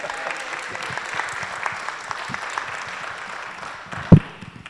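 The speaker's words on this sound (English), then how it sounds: "Applause is appropriate." Audience applause at a Lutheran church annual meeting, steady even clapping from a seated crowd filling the room, with a single loud thump near the end.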